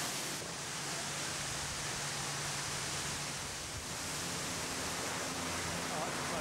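Large waterfalls in Fiji heard from a cruise vessel sailing close by: a steady, loud, broadband roar of falling water that fills the whole clip without pause.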